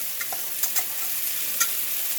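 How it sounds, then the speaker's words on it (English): Whisk stirring dissolved gravy packet mix into boiling water in a pot, a steady hiss of bubbling with a few quick scraping clinks of the whisk against the pan, close and with no talking. "you just whisk it into the"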